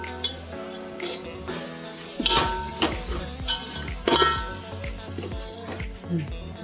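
A spoon stirs chicken biryani ingredients in a pan, with repeated clinks and scrapes of metal against the pan over a soft sizzle of frying.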